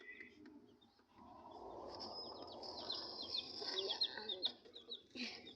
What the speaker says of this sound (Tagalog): papakita ko sa inyo yung mga breeder ko mga kalapatids